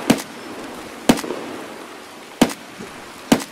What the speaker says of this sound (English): Someone's shooting at the sniper scav, and he missed